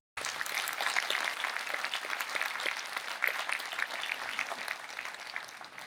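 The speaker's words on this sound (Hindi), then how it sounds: "आइए यीशु के लिए जोरदार ताली बजाएंगे" Loud, sustained applause fills a church meeting as the congregation claps for Jesus, beginning abruptly and carrying on as a dense continuous roar of many hands until the end.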